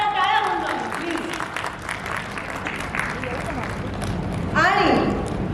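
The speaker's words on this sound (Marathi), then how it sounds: "जोरदार टाळ्या होऊन जाऊ प्लीज" An audience applauds at the Bigg Boss Marathi Season 6 press conference, a steady wash of clapping running under a host's amplified voice, which continues talking throughout.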